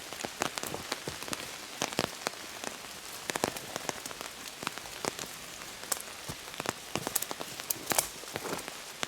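Rain falls steadily through woodland, a dense continuous patter with frequent sharper drops striking leaves and surfaces nearby, no voices.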